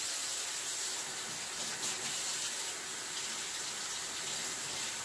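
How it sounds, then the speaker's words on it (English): Hands are washed under a running kitchen tap, giving a steady, full hiss of water that is unbroken and fairly close, with no talking. "I'm going to wash again."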